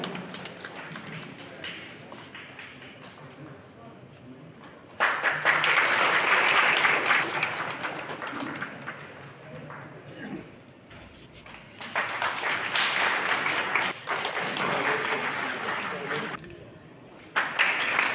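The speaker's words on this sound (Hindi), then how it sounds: "कृपया ताली बजाते रहे बंधुओं" Audience applause at a ceremony honouring farmers in Gonda, with a district official present; clapping swells in bursts, fades, then returns, with a voice speaking over parts of it.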